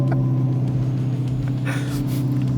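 Dodge Charger Daytona Scat Pack electric car playing its artificial engine sound, a steady low synthetic hum and rumble held close and constant for a few seconds, with faint hiss on top.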